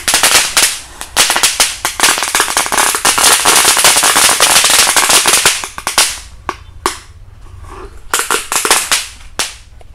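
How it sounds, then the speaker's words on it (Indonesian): Rapid bursts of firecrackers set off inside a motorcycle exhaust crack loudly and continuously for several seconds with a sharp metallic ring, then thin out into a few scattered pops. "kita nyumet mercon telur dino di dalam knalpot"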